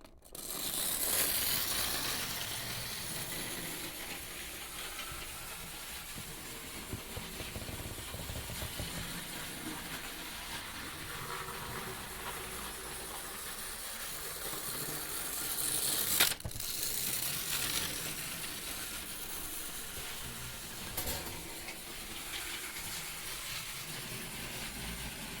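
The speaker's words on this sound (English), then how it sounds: "Now let's let this locomotive have its first run on my railway." Hornby clockwork toy locomotive running on a model railway layout, a faint continuous whirring and ticking of the wound spring mechanism and wheels, with a sharp click partway through.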